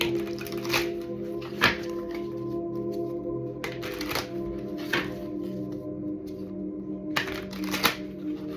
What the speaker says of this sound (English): One more shuffle, guys. One more shuffle.